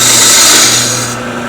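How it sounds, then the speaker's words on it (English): Wood lathe spinning a vase while a shallow fluted gouge cuts a cove, a loud close hissing scrape over a steady motor hum that eases off toward the end. "that's my shallow fluted gouge cut"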